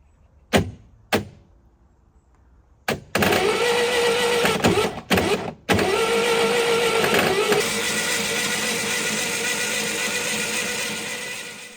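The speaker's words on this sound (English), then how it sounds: "try and make the engine turn over under its own steam using the starter motor" A seized 700HP 1980s supercar engine, idle for 30 years, cranks on its starter motor: a few short isolated bursts, then sustained mechanical whirring and grinding that tapers slightly toward the end, close and alone.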